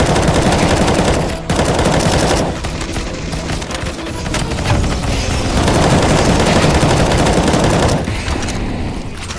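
An M249 machine gun fires in CS:GO, a loud, dense, continuous burst of rapid automatic shots lasting several seconds, briefly broken by short gaps in the firing.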